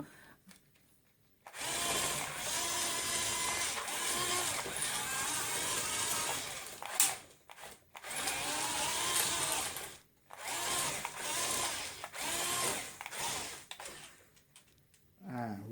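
A mechanical whirring drone from a 2 kg remote-control drill vehicle with a steel impact drill head runs steadily, with brief pauses and changes in pitch as it moves, mixed with some background noise.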